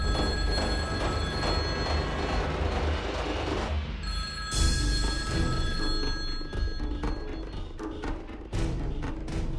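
A telephone rings repeatedly in a household scene from a drama series, steady tonal rings running throughout at moderate loudness under background music and sound.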